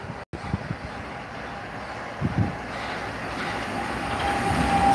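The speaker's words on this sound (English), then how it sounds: "Here is our car train." A DB Schenker Class 66 diesel locomotive hauling a car-carrier freight train passes at a trackside spot, a low rumble building steadily and growing louder toward the end, with some wind noise.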